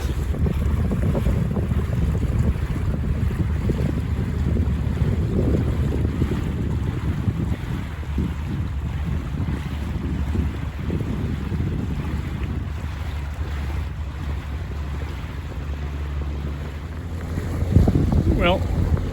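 A handmade houseboat motoring along the Kentucky River, its steady low engine drone mixed with strong wind buffeting the microphone and water wash, continuous for the whole stretch, with a brief brighter sound near the end.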